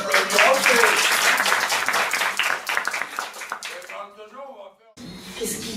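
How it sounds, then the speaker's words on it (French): An audience at an improv comedy show breaks into loud, dense clapping that fades away, then a voice speaks. "vous pouvez l'applaudir aussi."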